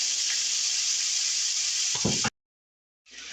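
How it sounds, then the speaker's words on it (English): Loud, steady sizzling of food frying in a pan, a dense hiss that drops to silence for a moment before returning. "it is still sizzling away here"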